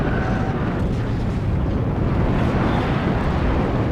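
Artillery strikes pound in the WARNO strategy game as a dense, loud, continuous roar of overlapping blasts and rumble, with no distinct pauses between impacts.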